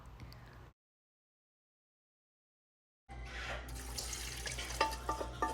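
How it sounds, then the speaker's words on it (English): Water poured into a bigger soup pot in a home kitchen, a steady splashing rush that cuts off after a brief moment, then resumes louder and fuller after a silent gap. "In went some water"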